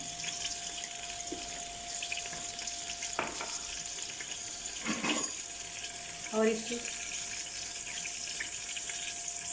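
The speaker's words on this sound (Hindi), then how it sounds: "ये देखिए ऑयल हमारा गर्म हो चुका है तो मैं इसमें थोड़ा सा ज़ीरा ऐड करती हूँ।" Cumin seeds sizzle in hot oil in a home kitchen, a steady hissing fry running throughout with a few stirring scrapes and clinks over it, close and moderately quiet.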